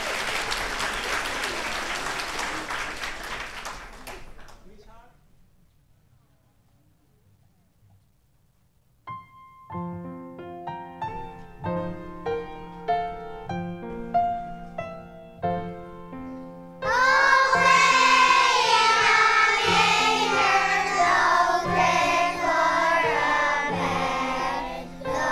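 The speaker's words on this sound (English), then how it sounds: "Just you need a little bit more loud applause to them." A school Christmas concert audience claps loudly for several seconds. The crowd falls quiet, then tuneful music plays, and a louder, fuller burst of applause and cheering swells over it toward the end.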